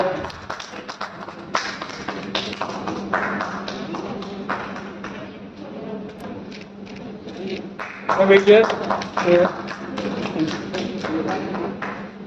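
An audience at an oath-taking ceremony at Constitution Club in Delhi applauds to welcome a guest on stage, a patchy burst of clapping that swells near the end while people talk over it.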